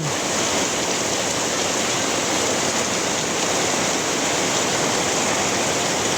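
Heavy typhoon rain pours down in a steady, dense roar that stays loud and unbroken throughout, with no voices.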